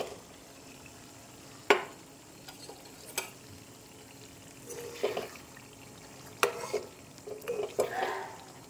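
Fried potatoes being stirred into a mixture in a pan, a few scattered spoon scrapes and soft knocks over a faint simmering background, no talk.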